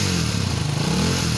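A rough, throbbing modified Bajaj Avenger 220 cruiser motorcycle engine idles steadily close by, with a low uneven rumble and no voices.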